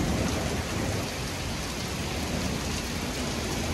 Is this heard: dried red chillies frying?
no